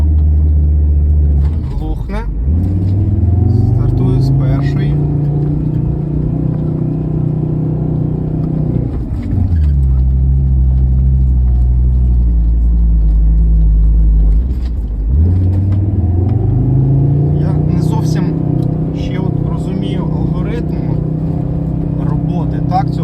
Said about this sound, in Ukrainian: Друга передача, газ в підлогу.